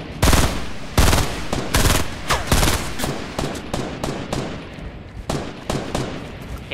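Rapid automatic gunfire from a Fortnite Battle Royale match, with dense bursts of sharp shots in uneven clusters, loud and close throughout.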